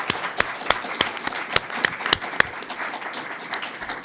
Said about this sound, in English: please give our candidates a warm round of applause